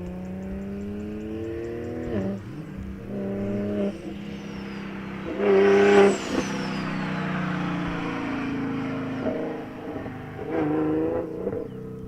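A BMW drag car at a Mkhuze drag strip, several loud revving bursts from a nearby engine, each rising in pitch and dropping back, with one sharp full-throttle surge in the middle.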